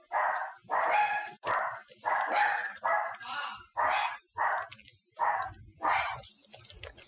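Several dogs bark in a rapid, loud series of close bursts, with a voice talking over them at times.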